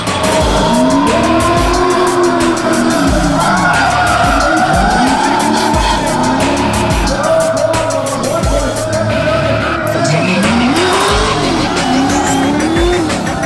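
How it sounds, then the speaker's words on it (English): A drift car at a Red Bull Drift Shifters event skids with long, repeated tire squeals rising and falling over a loud, revving engine, close and continuous. "If drifting is a science, Matt Powers is the professor."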